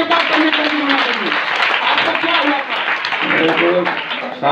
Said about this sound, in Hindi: तेज ताली के साथ परमेश्वर की महिमा करेंगे।